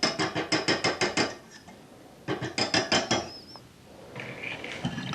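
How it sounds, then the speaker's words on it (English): A whisk attachment is taken off a stand mixer with quick bursts of rapid metallic clicking and rattling, two clusters of sharp taps separated by a pause, then a faint squeak and light handling noise, close up. "We will remove our whisk attachment."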